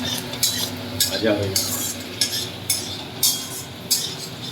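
Onions and spices frying in a pan are stirred with a metal utensil, giving a steady rhythm of close, bright scraping clinks roughly every half second over a low background hiss.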